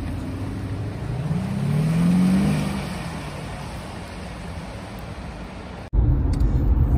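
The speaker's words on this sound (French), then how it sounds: "Départ du SQ5." An Audi SQ5 pulls away and accelerates, its engine rising in a revving surge then settling into steady road noise, fairly close, with a sharp cut before a louder rumble at the end.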